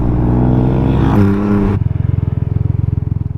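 Harley-Davidson motorcycle engine, loud and close: a steady rumbling roar that jumps in pitch at a rev, then settles into a pulsing, lumpy idle with a regular throb.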